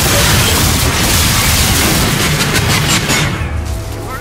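Gunfire in the Call of Duty Infinite Warfare game campaign comes as loud, dense booming blasts in an explosive barrage that fades slightly toward the end.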